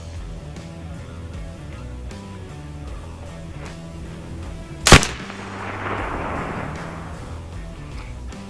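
A single sharp, loud shot from a BIN TAC S45 semi-automatic air rifle stands out near the middle, followed by a brief broad rush of noise as it fades, over a low steady background hum.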